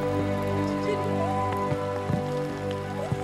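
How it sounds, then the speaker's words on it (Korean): Rain falling at early dawn in a village of the Asmat people, a steady hiss with scattered drip and patter sounds, close, under a faint tonal hum. "이른 새벽부터 비가 내리기 시작한다."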